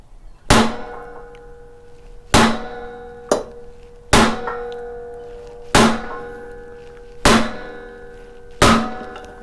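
Six heavy metallic strikes on a Toro Recycler mower flywheel with a sheared key land a couple of seconds apart, each ringing out briefly with a clanging resonance before fading, loud and close.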